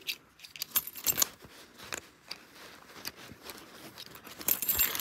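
Keys jangle and clink in irregular bursts close by as they are lined up and clipped onto a homemade portable power bank, with light handling clatter between the jingles and no talking.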